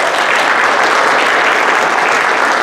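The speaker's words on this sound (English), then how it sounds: "Let's give him a round of applause." A crowd gathered to thank the fire department gives the fire chief loud, sustained applause, a thick, continuous wash of clapping from start to finish.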